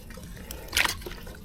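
Water splashing and trickling as a large taro bulb is rinsed by hand, a brief burst of liquid splashing near the middle amid low background noise.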